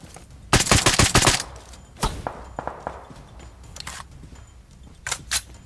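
Mobile battle-royale shooter gunfire aimed at bots: a rapid burst of close automatic shots, then scattered single cracks and short bursts, loud and sharp.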